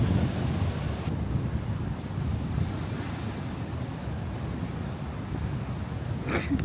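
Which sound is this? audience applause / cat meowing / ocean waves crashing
ocean waves crashing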